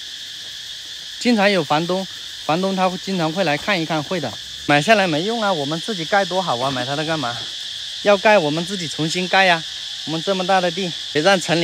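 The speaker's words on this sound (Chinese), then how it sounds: "知了的叫声，田园气息也挺好。" Cicadas drone steadily and loudly out in the Laotian countryside, a constant high shrill that never stops while two people chat over it.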